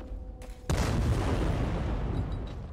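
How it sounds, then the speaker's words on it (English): A sudden loud explosion bursts in Dying Light 2 after a short quiet stretch, then rolls on as a long, dense rumble that slowly fades, with no talking. "Random explosions are my favorite."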